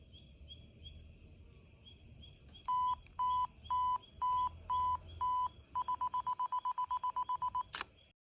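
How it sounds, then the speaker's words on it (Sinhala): Camera self-timer beeps during a night shoot of a comet at ISO 1250, with six slow, evenly spaced beeps followed by a rapid burst of quicker beeps before the shutter fires, over a steady chorus of crickets. "එහෙනම් අපි දැන් තප්පර 5ක වගේ ටයිමර් එකකුත් තියලම මේක"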